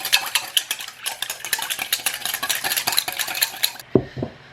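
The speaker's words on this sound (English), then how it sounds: "I'm just gonna go ahead and whisk those all together." A whisk beats wet ingredients with maple syrup in a bowl, rapid rhythmic clinking scrapes against the sides, then stops with a couple of dull knocks at the end.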